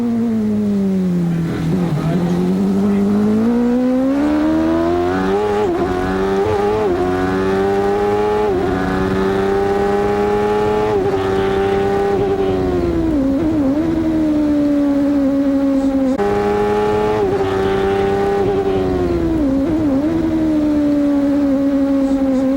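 A loud CART Indy car engine from onboard at the 1993 Cleveland race, holding a high steady whine that dips and climbs with gear changes and throttle, continuous throughout.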